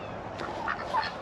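Farm turkeys gobbling in a short burst, a couple of warbling calls close by over a steady outdoor background.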